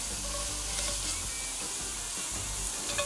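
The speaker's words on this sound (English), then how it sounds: "You're gonna brown the ground sausage." Pound of fresh ground breakfast sausage browning in a pan, a steady close sizzle and fry with faint scraping from stirring, continuous and without talk.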